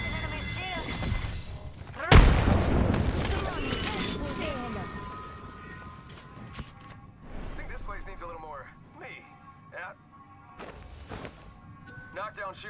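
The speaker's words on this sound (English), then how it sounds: "Shots fired and they're hitting me." Gunfire in the Apex Legends battle royale game, a heavy impact burst early followed by scattered sharper shots and hits, with a voice talking over much of it.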